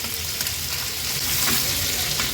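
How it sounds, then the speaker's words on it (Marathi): Mackerel (bangda) frying in a pan over high flame, Agri-Koli style crispy fry; a steady, close, loud crackling sizzle runs throughout with no talk. "आता एक एक करून हाय फ्लेमवर हे बांगडे आपण पलटून घेणार आहोत"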